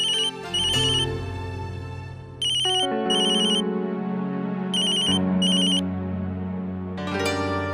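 An unanswered phone call: a repeating electronic melodic ringtone plays loudly and continuously with bright chiming tones in short bursts. There is no talking over it.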